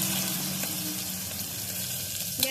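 Chopped onions frying in hot oil in a pan, a steady close hiss of sizzling throughout with a faint clink near the end.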